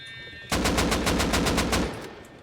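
Automatic gunfire in the video game Rust, a loud rapid burst of about a dozen evenly spaced shots that stops abruptly, heard alone.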